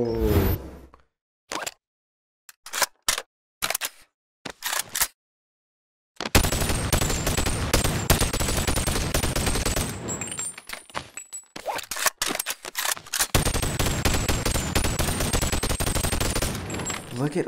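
Rapid gunfire from firearms, including a 5.56 rifle, in the VR video game Boneworks: scattered single shots separated by silence, then loud sustained automatic bursts with clattering shell casings, close and dense.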